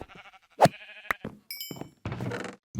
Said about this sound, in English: A random green sheep